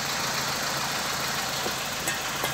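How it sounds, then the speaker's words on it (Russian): A 1997 Daewoo Nexia with a 1.5-litre engine runs at idle after an oil pressure sensor replacement, giving a steady, even mechanical hum close by with no talking. "Двигатель шумит"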